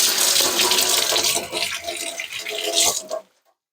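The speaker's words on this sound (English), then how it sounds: "I'm just going to quickly rinse it at the sink." Running water from a kitchen sink tap as fruit is rinsed underneath, a steady broad splashing hiss for about three seconds that stops abruptly.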